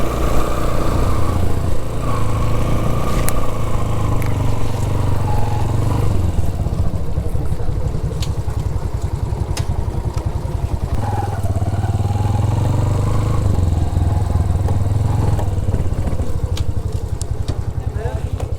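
A motorcycle rides up and parks at Rohtas Fort in Dina, Jhelum, its engine running steadily and loud close by throughout, with a rattling idle and people talking over it.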